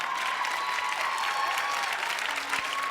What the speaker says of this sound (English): don't applaud that